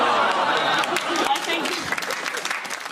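A TV comedy panel show studio audience claps in a dense burst that slowly thins out, while a voice talks over the clapping.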